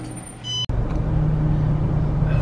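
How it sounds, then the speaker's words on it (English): Road traffic in Modesto, a brief high tonal squeal and sharp click, then a steady loud close engine rumble of passing vehicles that carries on to the end, with no speech. "this traffic in Modesto is no joke"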